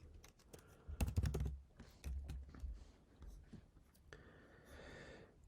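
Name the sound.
typing app registration name on computer keyboard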